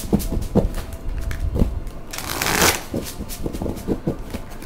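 A deck of Guardian Angel tarot cards is shuffled by hand, giving a close run of soft riffling and slapping bursts with a louder flurry near the middle.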